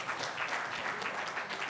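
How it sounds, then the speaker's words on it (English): A crowd claps in steady, even applause, a dense patter of many hands at moderate distance, with no voices over it. "a round of applause one more time"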